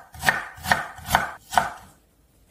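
A knife slices radish into short pieces on a cutting board while making a spring mugwort soup, with four evenly spaced, crisp chops landing close up and no talk.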